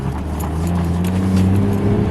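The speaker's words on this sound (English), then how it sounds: "Car sounds insane." A Toyota JZX100 engine revs loudly and close, a deep droning rumble whose pitch climbs steadily as it accelerates, with no voices.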